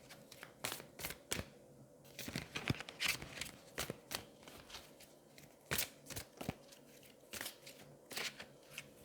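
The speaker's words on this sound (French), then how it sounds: "on va prendre une dernière carte des anges de l'amour" Cards from an angel love oracle deck being shuffled and drawn by hand, a run of close, crisp papery flicks and snaps in irregular bursts, with no talking.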